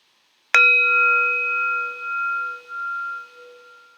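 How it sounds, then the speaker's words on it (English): A meditation bell is struck once, giving a clear metallic ding that rings on with a long, steady, slowly fading resonance against silence. "Allowing the sound of the bell"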